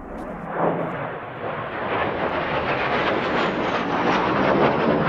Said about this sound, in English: That is the sound of a jet flying to the search area